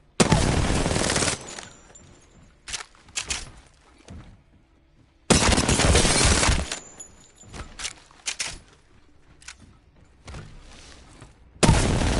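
Gunfire in the Apex Legends video game: loud bursts of rapid automatic fire, one around the opening second and another lasting over a second midway, with scattered single shots and clicks between and a final burst at the end.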